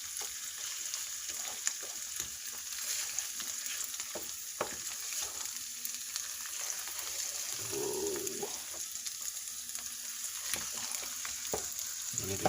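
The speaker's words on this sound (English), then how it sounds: "I'm gonna let it fry some more." An egg omelet with tomato sizzles and fries steadily in a pan, a constant crackling hiss, close and moderately loud.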